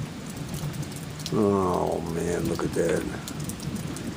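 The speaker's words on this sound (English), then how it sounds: "let me check the rain here, see if the rain, I gotta get some yard work done today." Steady rain falls outside a home workshop, a continuous soft hiss of drops running through the whole stretch while someone speaks briefly over it partway through.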